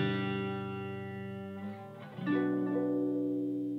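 A sustained electric guitar chord rings through a Fender Mustang amp with a swirling modulation effect, then a new chord is struck and held, no voices.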